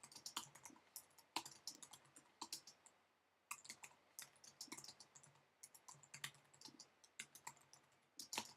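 Rapid typing on a computer keyboard, bursts of close, crisp key clicks with a short pause near the middle, no voices.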